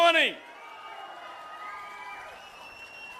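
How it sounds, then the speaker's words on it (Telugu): A political rally crowd at Punaparivaripalem cheers and claps during the Chief Minister's speech. A brief loud burst of voices opens, then gives way to a steady, moderate wash of crowd noise that carries on throughout. "గట్టిగా చప్పట్లు కూడా చెప్పండి, చేస్తామని."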